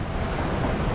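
Strong wind gusting over a sailboat at sea on a Bahamas-to-Bermuda crossing, a loud, dense roar of wind buffeting the microphone with surging water beneath, alone without talk.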